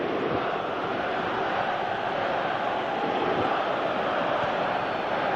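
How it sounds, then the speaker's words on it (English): A virtual stadium crowd in the football video game PES 2018 roars continuously, a broad, steady wash of distant massed voices with no breaks. "you can feel and hear how the crowd are reacting to all of this."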